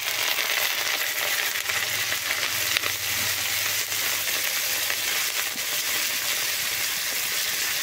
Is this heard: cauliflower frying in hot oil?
yes